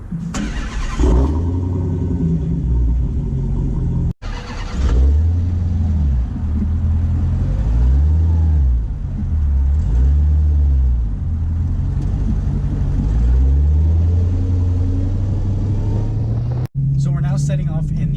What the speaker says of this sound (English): Setting off in the all-new 2018 SRT Hellcat